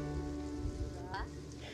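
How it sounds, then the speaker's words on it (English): Soft, steady rain in The Sims 4 patters on a surface, faint and continuous, with a brief tonal sweep partway through. "now it's raining"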